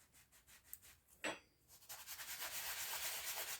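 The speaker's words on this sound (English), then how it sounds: "rub my cutter into some flour just so it doesn't stick too much, and then press it down" A round scone cutter is rubbed in flour and then pressed down into soft scone dough, giving a close scraping swish, a brief rougher rub, then a steady soft dusty rasping texture with no talk.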